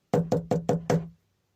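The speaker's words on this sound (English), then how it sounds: "suddenly there was a knock at the door like this." Five quick, firm knocks hit a door in a fast, even rhythm. They sound close and clear, then stop, with nothing else around them.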